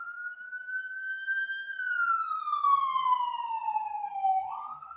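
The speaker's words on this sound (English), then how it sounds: "I'm waiting for this ambulance cop." A passing emergency vehicle's siren wails outside, one long tone that holds steady, slides downward as it moves past and jumps back up at the end, clear and fairly loud with nothing else over it.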